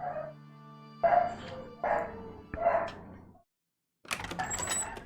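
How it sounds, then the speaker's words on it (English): Dogs upstairs in a house bark three times in quick, excited bursts, somewhat muffled and indoors, followed by a short silence and a scuffling, noisy stretch. "I think the dogs are going nuts upstairs."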